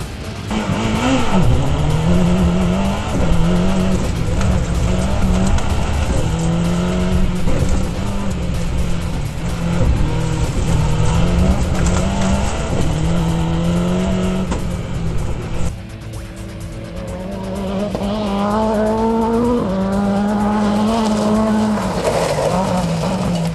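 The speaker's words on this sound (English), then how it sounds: "First off the line were Trevor MICEY Manning and Derek Edwards in the Ford Escort COSWORTH WRC" A Ford Escort Cosworth WRC rally car pulls away from the start line at a rally event in St. Peter, Barbados, its engine revving loudly and climbing through the gears in a continuous close roar.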